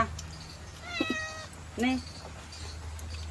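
A cat meows while being fed fish, two or three short plaintive cries, fairly close but quiet over a low steady hum, with voices nearby.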